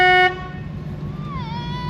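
A loud car horn blares steadily in town, then cuts off, leaving engine rumble and traffic noise with a faint rising and falling tone in the background.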